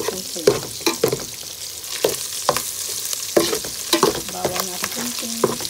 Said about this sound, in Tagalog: Luto tayo ng orange sauce sa butter, guys.